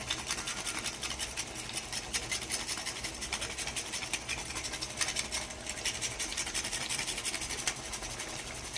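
Nutmeg rubbed against a grater in a home kitchen, a fast continuous rasping scrape with regular strokes, fairly quiet and close.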